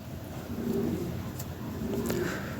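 Soft coos from breeding Lahori Shiraji pigeons repeat twice at a low pitch, faint against a quiet background hum.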